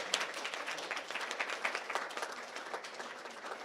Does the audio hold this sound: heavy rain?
no